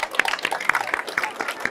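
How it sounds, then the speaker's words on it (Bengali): Scattered hand clapping from an audience at a school prize-giving for a cock-fight game contest, a short burst of uneven claps close by with a murmur of voices. "হাততালি।"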